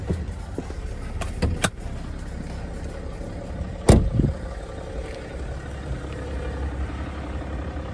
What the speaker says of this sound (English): We'll do a quick engine run and an engine bay check for any